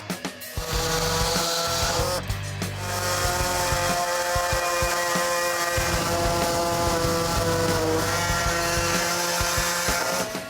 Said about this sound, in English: An air saw with a wide blade is used for the first cuts.